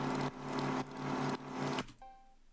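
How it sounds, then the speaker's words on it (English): Noisy projector-like whir sidechained to a kick-triggered compressor in a phonk beat, swelling back up after each duck in a steady pumping rhythm, then cutting to a short tonal blip at the end. "How about if I sidechain a compressor from the kick to the projector sound?"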